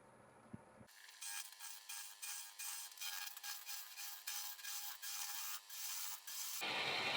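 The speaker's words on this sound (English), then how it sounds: "So I'm going to go back to my 1/2 inch spindle gouge, and I'm going to just try" A 1/2 inch spindle gouge cuts wood on a lathe while turning a tall goblet, giving a steady hissing scrape that pulses in short repeated passes for several seconds before stopping.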